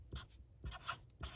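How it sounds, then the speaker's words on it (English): Pen writing on paper in three short bursts of scratchy strokes separated by brief pauses, close and fairly quiet, with no voices. "Let me write that on here."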